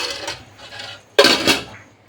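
A spoon stirring chicken-feet curry in a metal pot, scraping and clinking against the pot in a couple of close bursts, the second louder and sharper.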